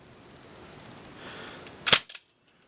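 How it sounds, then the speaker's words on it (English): An X-Shot Recoil foam dart blaster fires with one sharp, close pop, followed quickly by a smaller click. A faint low hiss precedes the shot, and silence follows. "Remember, X Shot darts do fire at higher velocity."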